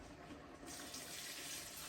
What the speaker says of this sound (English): we're going to go ahead and add some of our wine to the mixture